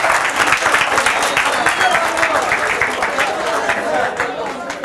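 Audience applause at a family-life talk, a dense, steady wash of many hands clapping throughout, loud and close with a faint murmur of voices beneath.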